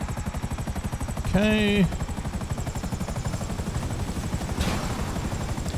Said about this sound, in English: My helicopter's doing good on damage